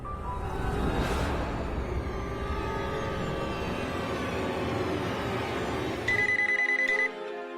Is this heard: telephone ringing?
yes